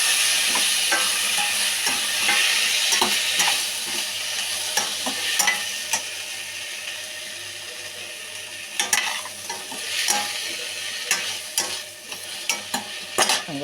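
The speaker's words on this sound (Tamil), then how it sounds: "லைட்டாக ஒரு வதக்கடி." Steady sizzling of tomatoes frying in a pan, with occasional clinks and scrapes of a utensil stirring, close and fairly loud throughout.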